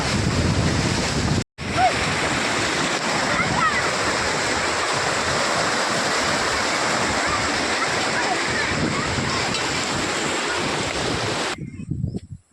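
Water surges from a breached lake in a continuous loud roar and rush, close by and steady with heavy wind buffeting, cut by a brief dropout and fading at the end.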